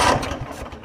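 A John Deere LX266 riding mower's engine cranks over in a short, loud burst of rough, sputtering turnover that fades slightly toward the end.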